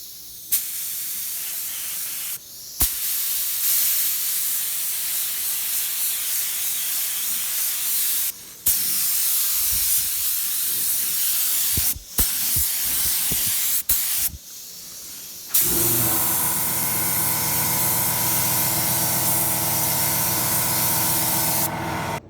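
Long bursts of primer hiss from a spray gun onto seam sealer on a 1973 Toyota Celica, broken by short pauses, ending in a steadier, more tonal hissing stretch.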